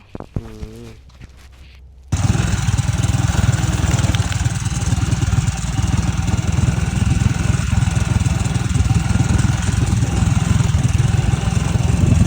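A hill bike's motorcycle engine runs loud and steady after a short quieter opening, a continuous close rumble with no clear changes in pitch.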